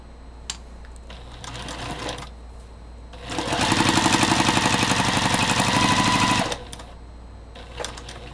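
A sewing machine stitching quilt pieces runs in one steady, rapid burst of about three seconds, loud and close, with quieter handling noises before and after.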